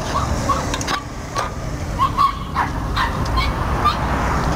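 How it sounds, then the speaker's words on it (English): A bunch of puppies yip, whimper and bark playfully in the background, small high yelps scattered at a moderate distance over steady outdoor rumble beside a trail in South Tucson. "Those little dogs in the background,"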